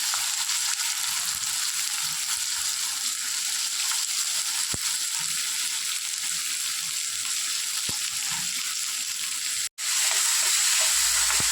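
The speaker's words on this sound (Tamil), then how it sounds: "வெங்காயம் நல்லா வதங்கட்டும்." Onions sauté in a pan after fenugreek seeds for a fish curry, giving a continuous even sizzle with a few faint stirring clicks and a brief dropout near the end.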